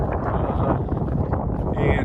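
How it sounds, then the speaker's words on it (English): Steady mountain wind in view of Mount Washington rumbles and buffets the microphone throughout, a dense low roar with occasional gusts. "A little windy"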